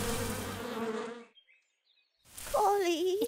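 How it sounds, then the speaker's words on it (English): Cartoon bees buzzing in a swarm, a loud, busy drone for about a second and a half that fades out, then a high whistling or whining tone rises over a rough buzz near the end. "I think I finally got rid of those bees."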